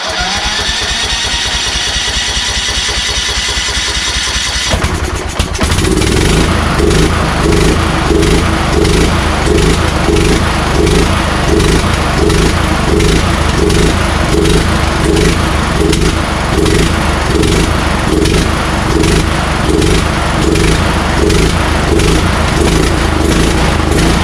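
A John Deere LA120 riding lawn mower with a troublesome engine cranks and starts, then runs loudly up close with a steady, pulsing chug that hints at surging.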